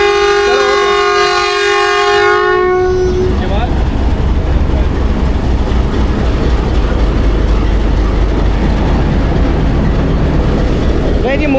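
The 18 Down Millat Express pulls away with a long, loud horn blast, followed by the steady rumble and clatter of the moving train close by.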